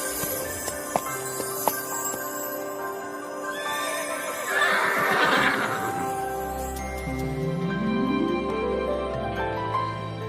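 Horses in an animated fantasy story, a few sharp hoof knocks early, then a bright neighing whinny in the middle, followed by a rising musical swell, all close and without talk.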